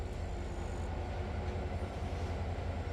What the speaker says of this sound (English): That's why I heard a clickety-clack.